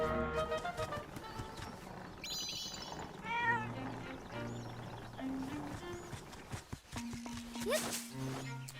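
A cat meowing in Zelda: Echoes of Wisdom, a few short mews threaded through game music and other in-game tones, fairly clear but layered with the score.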